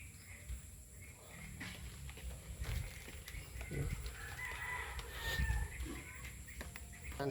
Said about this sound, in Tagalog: May iba kong mga manok andun na.